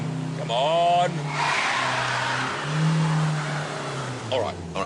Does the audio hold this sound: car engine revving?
yes